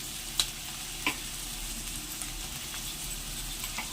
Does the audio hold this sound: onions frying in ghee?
yes